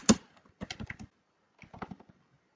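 Short bursts of typing on a computer keyboard, crisp close key clicks in two quick clusters separated by a pause, in a quiet room.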